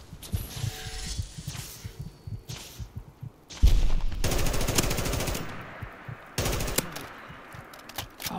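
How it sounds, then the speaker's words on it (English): An M4 rifle fired in modded Fallout 4, rapid automatic bursts in loud separate volleys split by short quiet gaps, with a heavy boom near the start of the bursts. "Oh, the M4 has so much recoil."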